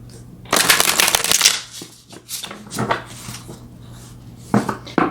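Tarot cards being shuffled in a dense, rustling burst up front, then a few softer riffling flicks and a sharp snap near the end, with a low steady hum running underneath.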